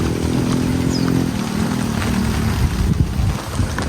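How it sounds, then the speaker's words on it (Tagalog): Strong wind roars steadily during rain at a campsite, a loud buffeting rumble that persists throughout. "Lakas ng hangin natin."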